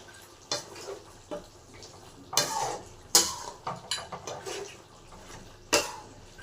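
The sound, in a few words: stirring chicken curry with coriander in a pan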